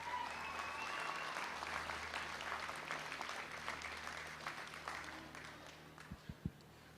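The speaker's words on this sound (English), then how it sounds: "give these kids a round of applause for all they've done today" Crowd applause at a youth fair and livestock show for the young exhibitors, fairly faint and distant clapping in a large space that tapers off, followed by a few thumps.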